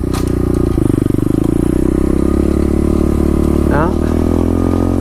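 An SSR 125 pit bike engine idles steadily with a chugging rhythm, close and loud, alongside a brief clatter and a rising rev near the end; a voice speaks over it.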